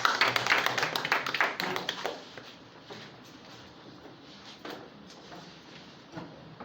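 Audience clapping for a minister at a public gathering, a brief loud burst of claps at the start that thins out and fades to scattered taps and quiet room noise.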